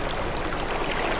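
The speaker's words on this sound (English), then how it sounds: "Listen to that gentle burble behind us." Gentle burbling water at an onsen, a steady close trickle and splash that stays at an even level, with no voices during it.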